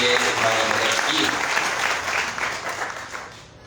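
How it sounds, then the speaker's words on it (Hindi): A congregation at a holy mass breaks into loud, sustained applause that fills the room, then tapers off toward the end. "तालियां बजाइए इनके लिए भी कि उन्होंने ये हमारी मदद की।"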